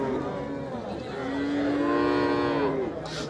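A cow gives a long, loud, close moo that swells and then fades, with low voices murmuring around it at a cattle market at Satpakiya ferry ghat.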